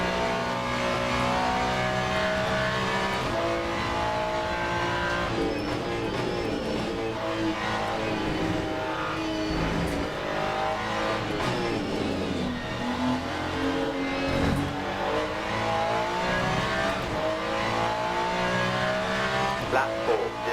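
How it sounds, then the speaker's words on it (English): A GT3 race car in the Le Mans Ultimate video game runs under load, its engine note rising and falling steadily with tire squeal layered over it. The sound is continuous and close throughout. "come on car, hold on. Tires screaming for mercy."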